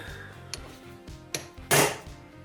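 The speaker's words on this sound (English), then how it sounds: "we should be able to stamp metal now" Hammer striking a steel letter stamp into metal after the stamp was given a golden temper: two light metallic taps, then one loud, sharp ringing blow near the end, close up over low shop hum.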